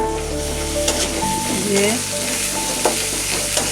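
Garlic and ginger paste fry in hot oil with salt, a continuous close sizzle broken by stirring scrapes, with a brief spoken word over it.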